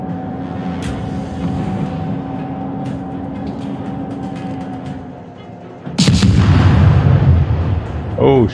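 Naval guns of a German tier II cruiser, the Dresden, fire in the game World of Warships: a steady engine and sea rumble, then a loud, close salvo boom with a long rolling decay, and a second blast near the end.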